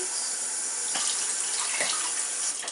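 Tap water runs steadily into a container while measuring water for birthday cake batter, a continuous close hiss with slight splashing changes throughout.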